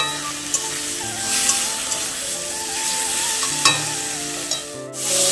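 Egg curry cooking in a pan gives a steady sizzle with stirring and scraping sounds and occasional soft knocks, close and continuous with no talking.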